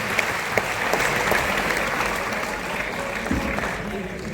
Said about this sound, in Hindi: एक बार खुद के लिए और भाई दुष्यंत के लिए जोरदार ताली